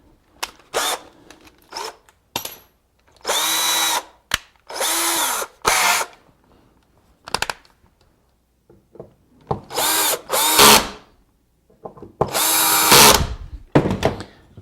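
A power drill drives 1-inch drywall screws into a lathe hub in several short, loud bursts of whirring, separated by pauses and small clicks.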